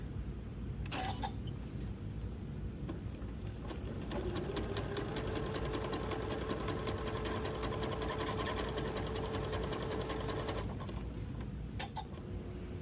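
A sewing machine stitches rows of elastic-thread shirring on fabric, guided by a quilting guide bar. It gives a steady, continuous mechanical whir with a fast stitching rhythm for about twelve seconds, and no one speaks.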